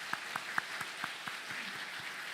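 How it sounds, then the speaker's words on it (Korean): A church congregation at a Sunday worship service applauds as everyone rises: a few faint, sharp claps land on a steady, even beat over a soft hiss, with no talking. "우리 박수로 일어나도록 하겠습니다."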